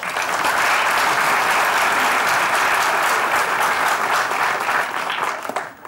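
Dense, loud studio audience applause on a Turkish comedy show as a guest enters, continuous and even before fading slightly at the very end.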